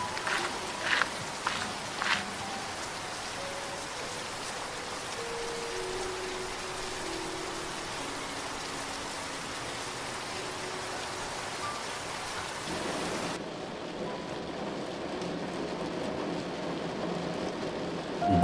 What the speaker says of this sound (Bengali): এখন ঝিরঝিরে বৃষ্টি পড়ছে